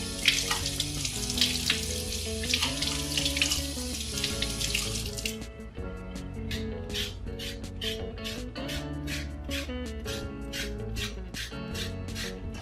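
Running tap water pours steadily over a carrot for about five seconds, then stops, followed by a series of short rhythmic clicks or taps with a low hum underneath.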